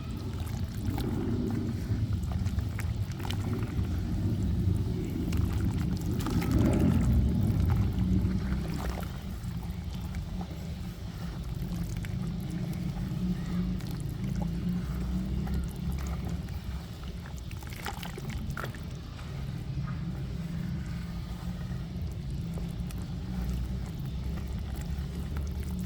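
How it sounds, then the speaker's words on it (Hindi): Water sloshes and swirls continuously as hands mix soil into it to make soft mud, a close, churning wet sound with no talking. "मिट्टी को पानी में अच्छी तरह मिक्स करना है।"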